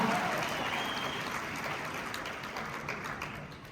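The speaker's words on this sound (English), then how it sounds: "they deserve another round of applause for getting that alarm to stop" A crowd of panel attendees at a convention applauds steadily, dense, continuous clapping that fades slightly toward the end with no voices over it.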